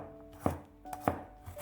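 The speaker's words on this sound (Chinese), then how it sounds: "再改刀切成蒜末" Kitchen knife mincing peeled garlic cloves into fine bits on a cutting board, three sharp close chops spaced unevenly over a quiet background.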